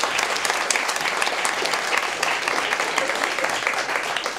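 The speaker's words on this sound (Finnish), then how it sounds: "annetaan vielä aplodit" Sustained audience applause at a live club event, many hands clapping in a thick, even wash that stays steady from start to finish.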